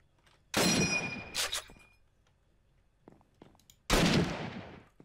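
Two loud M1 Garand rifle shots from modded Minecraft, each a sharp report with a decaying tail, spaced about three seconds apart, with faint clicks between them.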